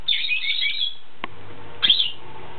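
A pet bird chirps indoors, a bright twittering burst followed by a short pause and a second quick chirp, close and fairly clear, with faint soft knocks between the calls.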